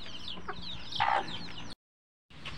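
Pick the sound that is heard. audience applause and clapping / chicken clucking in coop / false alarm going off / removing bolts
chicken clucking in coop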